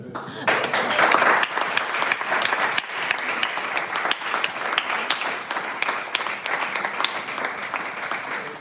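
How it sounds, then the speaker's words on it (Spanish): An audience applauds at the close of a talk during a conference on energy transition and territory, with steady, fairly close clapping that holds evenly for several seconds after a brief quieter start. "esos compañeros de Bildu, un aplauso"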